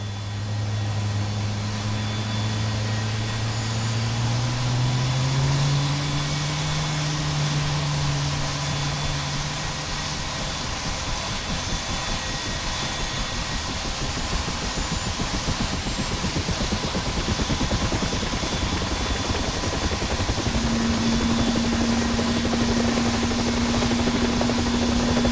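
An AH-64D Apache helicopter in the DCS video game spinning up from a cold start, a loud steady engine whine and rotor drone with a rising tone that dips, then a fresh higher tone taking over near the end.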